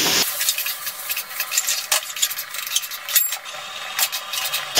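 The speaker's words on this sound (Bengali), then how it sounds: "সেই ডালটা এই মশলার মধ্যে দিয়ে দিচ্ছি। মশলার সাথে ডালটা ভালো করে মিশিয়ে নিচ্ছি।" Fried mung dal being stirred into a spice masala for Gobindobhog rice khichuri, a steady scraping and sizzling in the pan with sharper clinks of the spoon at intervals, close and fairly loud throughout.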